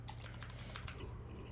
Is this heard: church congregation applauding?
no